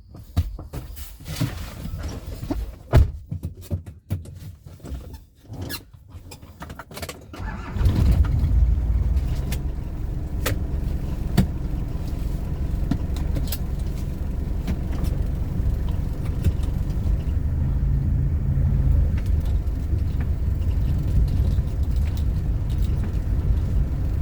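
A manual-transmission car being driven: a few clicks and knocks at first, then a steady low engine drone that holds on, close and fairly loud, with no talking.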